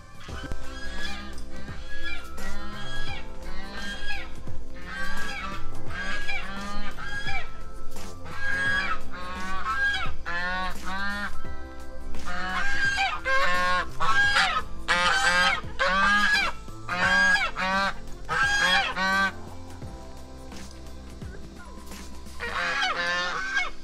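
Geese honk in repeated loud, nasal bursts, sometimes overlapping, with a steady low hum running underneath throughout.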